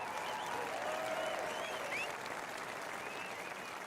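Dense, steady applause from a large crowd in a golf video game, continuous throughout with light whistles above it, heard at a distance.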